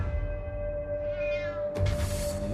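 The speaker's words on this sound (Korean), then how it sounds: "어느 날부턴가 계속 집 주변에서 고양이 울음소리가 들린 겁니다" A cat cries repeatedly near a house in north London, a drawn-out tonal wail that rises and then breaks into a louder, harsher call, heard alone over a steady background.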